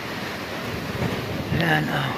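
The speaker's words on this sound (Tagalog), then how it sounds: "magulo guys ang hangin" Strong typhoon wind roars and buffets the microphone continuously, with a voice speaking briefly over the gusty rush.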